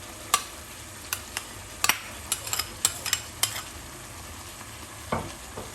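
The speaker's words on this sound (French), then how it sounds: "Maintenant, je vais mettre la pâte d'arachide." A spoon scrapes and clicks against a pan as peanut paste is stirred into smoked cartilage frying in it, sharp taps spaced irregularly over a soft, continuous sizzle, close and without talk.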